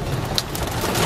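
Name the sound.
heavy rain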